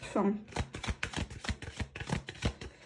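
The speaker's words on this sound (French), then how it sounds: "Allez, on mélange bien les cartes." A deck of oracle cards is shuffled by hand in a series of quick, close riffling and slapping strokes, with a voice speaking over the shuffling.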